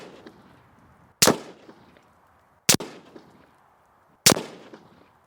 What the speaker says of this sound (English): we're just going to send 5 more shots at this bottom piece of tape